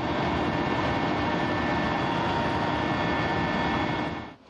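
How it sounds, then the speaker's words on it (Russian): Military helicopter flying close to the front line in Donbas, maneuvering among hills on approach to a landing point, a loud, steady roaring engine and rotor wash filling the cabin before it cuts off at the end. "При приближении к точке высадки вертолет начинает маневрировать среди холмов."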